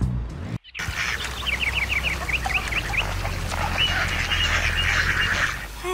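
Ducks in a park in the game Roundabout quack and cluck in a lively overlapping chorus, fairly close and loud, under steady outdoor ambience with no talk.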